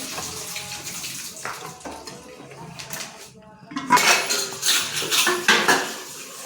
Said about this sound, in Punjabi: ਇਧਰ ਸਬਜ਼ੀ ਭਾਂਡੇ ਮਾਜ ਰਹੀ ਆ